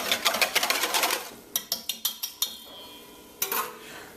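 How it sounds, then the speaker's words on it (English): A whisk beating a milk mixture for bread pudding in a bowl, a fast run of clinking taps followed by scattered sharp clicks and a final burst, fairly close and alone. "I'm going to continue whisking this for a bit,"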